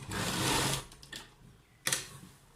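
A sewing machine stitches along a kurta neckline, one short run at the start and then a quick second burst after a brief pause.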